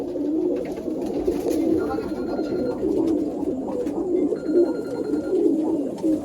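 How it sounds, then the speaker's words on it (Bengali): Golden Ziria line pigeons coo in a steady low murmur that runs throughout, several birds close by, with faint thin tonal sounds above. "এটা গোল্ডেন জিরিয়া লাইনের পায়রা"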